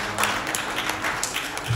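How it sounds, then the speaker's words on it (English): A small audience gives brief, sparse applause, a few scattered claps close by, thin and quickly fading. "Normally when I introduce myself, I get a little applause, and that's as little as I've ever received."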